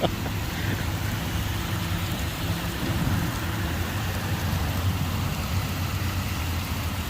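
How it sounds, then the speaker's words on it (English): Heavy rain pours steadily in a dense, constant roar, with a low rumble underneath throughout. "right now with the heavy rain, there's not very many motorcycles going by"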